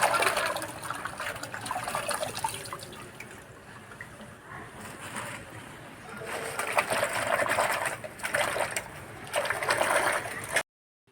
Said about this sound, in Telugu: ఇప్పుడు దీంట్లో నుండి మొత్తం నీళ్ళు అన్నీ వెళ్ళిపోతాయి